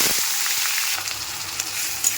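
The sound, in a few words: nigella seeds and bay leaf sizzling in hot oil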